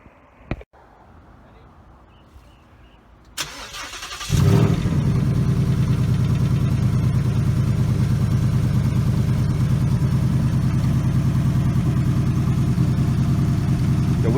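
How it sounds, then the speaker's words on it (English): After a few quiet clicks and a short crank, a 2019 Mustang GT with a blown engine fires up loudly and keeps running with a rough, steady drone throughout. "we're able to start the car, and I could show you the symptoms of what's wrong"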